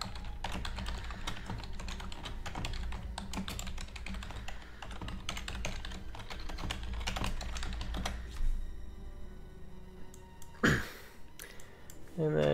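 Computer keyboard keys clatter in a steady stream of typing while a spreadsheet is edited, close and fairly loud, with a brief break and a few louder clicks near the end.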